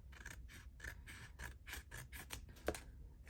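Paper being trimmed with scissors for a Christmas journal, a quick run of repeated crisp snips and rasping cuts, close and fairly steady throughout with no talking.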